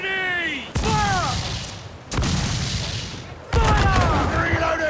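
Ship cannons boom in the naval combat of Assassin's Creed Black Flag: three loud, heavy blasts a second or so apart, each one trailing into a rumbling roar, with a faint whistling tone between the shots.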